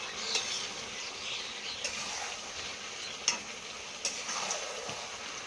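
Duck meat being sautéed and stirred in a pan with oil, a steady low sizzle under soft scraping and a few sharp clicks of the spoon against the pan.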